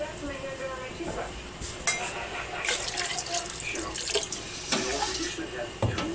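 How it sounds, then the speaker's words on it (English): Tap water runs steadily into a pot of warm milk being cooled while making homemade Colby cheese, a continuous close splashing stream with a few clinks of cookware. "we're going to add some more water to it."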